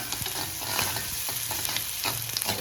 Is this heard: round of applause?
no